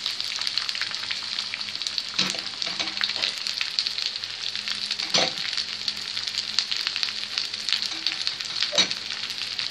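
Onions frying in butter with melted mastic in a pan for Egyptian kabab halla, a steady bright sizzle throughout, broken by a few louder stirring scrapes.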